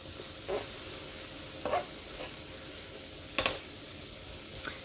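Vegetables cooking on a hibachi griddle, a soft continuous sizzle with a few brief scraping or clinking bursts at intervals, close but fairly quiet.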